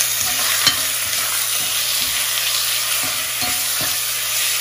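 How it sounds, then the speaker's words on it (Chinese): Meat slices stir-fried in caramelized sugar in a wok, a steady loud sizzle with occasional scraping stirs of the spatula, close and continuous, no talking. "好，当它融化了，糖胶色出来了，我们就把这个放进去，肉放进去。"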